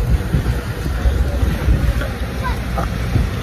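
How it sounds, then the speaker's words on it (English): Strong wind gusts during heavy snowfall roar steadily and loud against the microphone, a constant low rumbling buffet with no clear pauses. "Look at all that snow just falling up. It's a lot and very windy."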